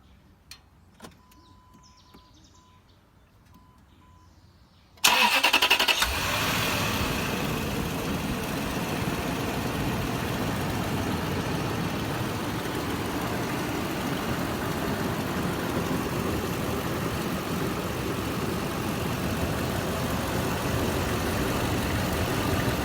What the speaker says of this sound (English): So let me just run that engine for you so you can get a listen on this.